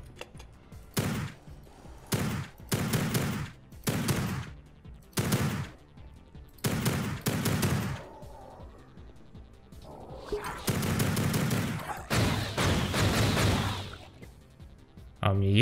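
Video game gunfire rattling out in about eight short, sharp bursts separated by gaps, followed by a longer stretch of denser shooting and clatter toward the end.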